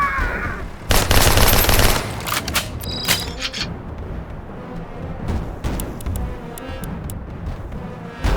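Gunfire from mercenaries in the combat game Mercenaries 2: World in Flames, with a loud, dense burst of automatic fire near the start followed by scattered sharp shots and mechanical clanks over a rumbling battle background.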